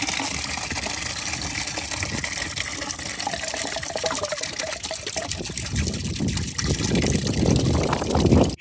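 Coolant gushes and splashes steadily out of a VW Touran radiator being drained, a continuous close-up liquid pour that swells slightly louder near the end.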